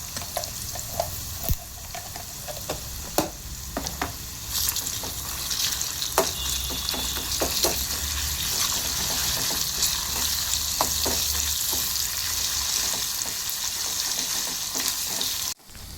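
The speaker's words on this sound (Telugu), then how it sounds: "అల్లం ఉల్లిపాయ పేస్ట్ పచ్చివాసన పోయేదాకా వేయించుకున్న తర్వాత" Ginger-onion paste frying in a pan for mango pulihora, a steady close sizzle with scattered stirring scrapes and clicks throughout, no talking.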